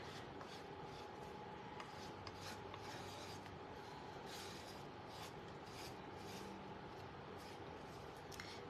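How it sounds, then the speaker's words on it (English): Steady rasping scrape of a tool chipping paint off a wooden sunflower craft piece, continuous and close, with repeated strokes and no talking. "So we're just going to scrape."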